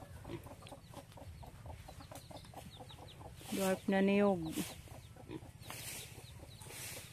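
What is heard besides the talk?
chickens clucking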